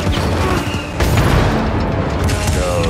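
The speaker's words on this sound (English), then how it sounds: "So that fires the cannons." Cannon fire in the video game Star Wars Jedi: Fallen Order: heavy booming blasts with a strong low rumble, a fresh loud burst near the one-second mark, and sustained mechanical roar after it.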